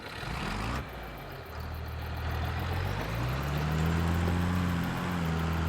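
A tractor in Farming Simulator 23 idles with a low, steady engine rumble that swells and rises in pitch midway, with no talk over it.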